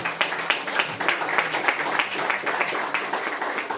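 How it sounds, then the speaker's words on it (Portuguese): A church congregation breaks into sustained applause, dense overlapping clapping filling the space at an even, fairly loud level with no voices standing out. "Uma salva de palmas para Jesus"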